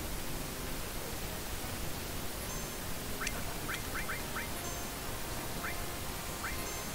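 Birds squawking in the Final Fantasy 7 video game, a few quick harsh quacking calls in scattered bursts over a loud steady noisy background.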